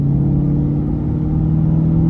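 A loud, steady engine drone with a deep low hum, heard from inside a straight-piped 2007 Ford Mustang GT V8 cruising at an even pace, shifting at 3,000 RPM, with no talking.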